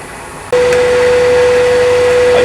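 A wood lathe set up for eccentric turning, running at about 3,300 RPM: after half a second of quieter room noise it starts abruptly into a loud, steady motor whine that holds without change to the end.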